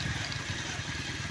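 Motorcycle engine idling nearby, a faint, steady low putter with a quick, even rhythm and no other sound.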